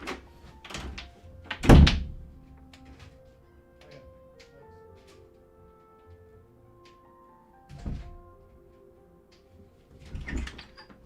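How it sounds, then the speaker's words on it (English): Someone knocks on a window in a quiet room, a loud thudding rap early on, then two fainter knocks spread out over several seconds, with birds cooing softly in the background. "Someone's knocking on my window. Literally on my window."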